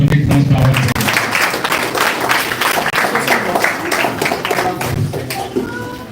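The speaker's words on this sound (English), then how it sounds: "Let's have a round of applause for Sonni Transfer" Audience applause for Sonni Transfer at a digital literacy summer camp event, dense steady clapping from a crowd running the full length, loud and close, with some voices mixed in.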